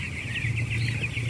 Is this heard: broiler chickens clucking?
yes